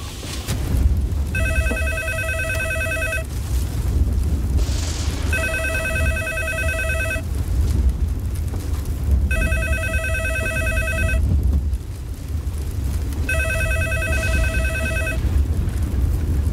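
A telephone rings in four evenly spaced bursts of trilling electronic tones over a low steady rumble of blowing wind during a tornado night.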